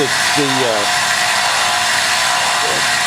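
A power drill bores into a wooden handle as the bit binds in its flutes, producing a loud, continuous grinding whir with brief voice fragments at the start.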